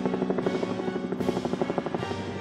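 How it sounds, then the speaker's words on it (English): A helicopter in an animated action story drones overhead with a steady rapid rotor chop, fairly loud and close, with its pitch shifting a couple of times and no talking. "there's a helicopter firing from above"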